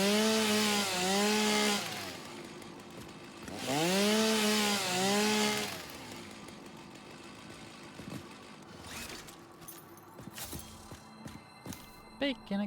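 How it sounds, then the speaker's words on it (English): A chainsaw cutting wood in the factory-building game Satisfactory, two loud revving bursts a couple of seconds apart, followed by quieter footsteps and clicks. "Chainsaws what I want to put in my hands."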